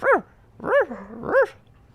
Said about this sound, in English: God, this damn dog, bro.